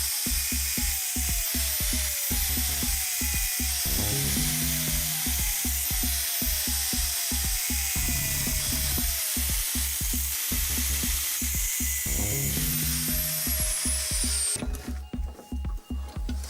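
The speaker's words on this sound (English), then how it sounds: "Clamp the key in a vise and use the grinder to form a thread on the ground edge." Angle grinder cutting a thread into the ground edge of a key clamped in a vise, a loud continuous metallic whine broken by rapid rhythmic pulses as the disc bites, running steadily until it winds down near the end.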